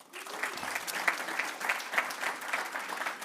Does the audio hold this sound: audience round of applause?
yes